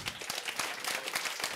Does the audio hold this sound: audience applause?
yes